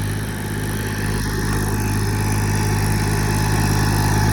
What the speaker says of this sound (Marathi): एक ट्रॅक्टर आले ट्रॅक्टर जाऊ द्या